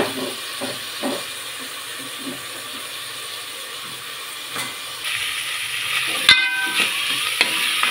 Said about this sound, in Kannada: ಈ ಥರ ಫ್ರೈ ಮಾಡ್ಕೋಬೇಕು ಫ್ರೆಂಡ್ಸ್